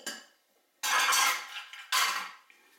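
A utensil scrapes and churns through manicotti filling with eggs and parsley in a bowl, in two close, loud bursts of mixing separated by a brief pause.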